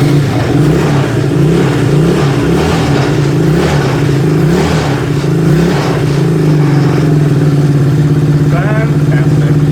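A motorcycle engine, started on choke in neutral after an ignition barrel replacement, runs loud and close with a steady throbbing tone. Its pitch rises and falls in repeated revs.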